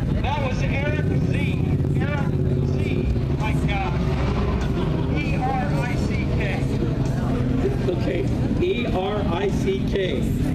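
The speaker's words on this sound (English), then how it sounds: "Just ride his bike. It's an RC51." A Honda RC51 sport motorcycle creeps along in a slow race, its engine droning steadily at low revs under crowd chatter and an announcer's voice throughout.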